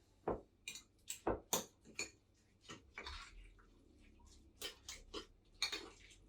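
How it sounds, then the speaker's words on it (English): A fork mixes overnight oats in a container, producing a series of close, crisp clinks and scrapes against the sides in an irregular rhythm, with brief pauses between strokes. "I'm going to use this fork, and then you just mix it up"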